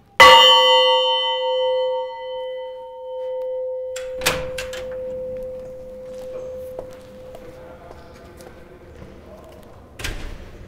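The champions' bell at the PSG Zlín hockey arena is struck once with a loud metallic clang and rings on in a long, slowly fading tone. Softer knocks and a thump follow in the quiet room.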